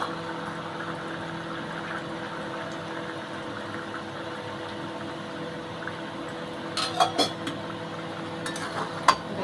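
A spoon stirs a pan of chicken-scrap curry with potatoes and garam masala, giving a steady low simmering bed with a few sharp metallic clinks and scrapes near the end.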